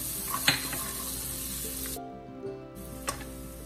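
Garlic and a small piece of hot pepper fry in a pot for curried eggs with aloo, a continuous hissing sizzle with a few clicks and clinks, close and steady.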